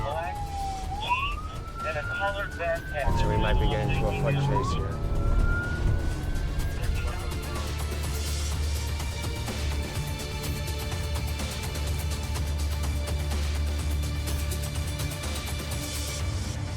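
Police sirens from five or six police cars chasing along a highway in Chicago wail and sweep up and down nearby, fading into a steady rumbling engine drone while someone talks over them.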